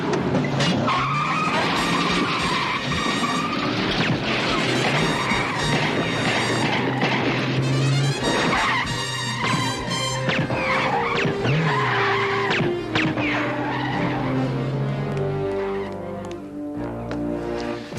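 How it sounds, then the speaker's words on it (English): A car racing hard from a cold start, with loud tire skidding and squealing over a roaring engine, continuous and dense for most of the stretch before easing off near the end. "It's not good to race a car that way when it's cold."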